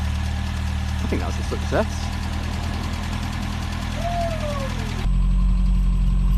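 A Mk2 Ford Escort's 1.3 engine idles with a steady, low, bassy hum close by, while someone speaks briefly over it.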